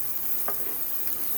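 Ingredients sizzle in a frying pan as they are stirred, a soft, steady frying hiss with a faint scrape of stirring, heard briefly and alone.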